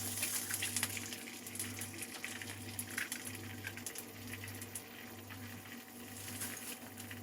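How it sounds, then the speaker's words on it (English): Eggs fry in butter inside an egg ring in a pan, giving a steady, moderately loud sizzling hiss over a low, constant hum, with no talking. "Let's fry an egg in it."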